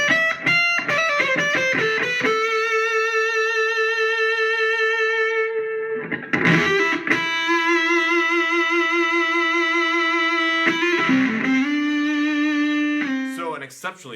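Sterling SR50 Stingray electric guitar on the neck pickup through a fuzz pedal turned nearly all the way up, warm smooth tone, plays a quick run of notes and then holds long sustained notes, loud and close.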